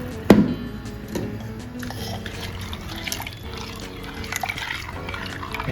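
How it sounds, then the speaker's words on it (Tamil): Water is poured from a rinsed mixer jar into a dal mixture for a drumstick kuzhambu, giving a splashy, trickling pour that runs on at moderate loudness after a sharp knock at the start. "இந்த மிக்சி அலம்பி அந்த தண்ணியே ஒரு டம்ளர் தண்ணியை அதில் விட்டு கலந்துக்கலாம்"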